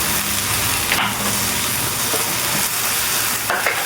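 Dried fish (shutki) fries in a pan with a little water added, giving a loud, continuous close sizzle with a couple of brief stirring scrapes.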